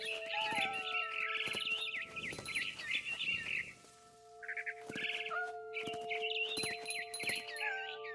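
Barn swallow in the game What Remains of Edith Finch, with bright, repeated chirps and twittering calls in short bursts over a soft tonal music bed, close and clear with a short pause midway.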